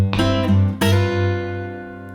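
Blues ending lick on guitar to close a delta blues progression: two quick plucked notes followed by a strong struck chord that rings out and slowly decays, close and alone.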